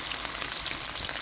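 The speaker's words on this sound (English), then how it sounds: "We're going to saute this" Chives, garlic and green seasoning sauté in a prepared pan, giving a steady close sizzle and crackle that runs unbroken for a short moment.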